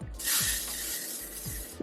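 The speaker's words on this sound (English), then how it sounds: "This is spray tan in a can, and I'm just going to spray my lace" Aerosol can of spray tan hissing onto a lace wig front, a steady close hiss lasting nearly two seconds with a faint rattle at the start.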